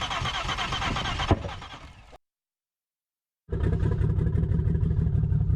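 A fuel-injected vehicle engine cranks with a rough churning that sputters and fades, falls silent for over a second, then resumes with a loud, steady mechanical drone.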